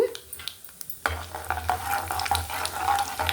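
Chana dal, mustard seeds and cumin sizzle and crackle in hot oil as a tempering, with a steady frying hiss and scattered pops, close by and alone without talking.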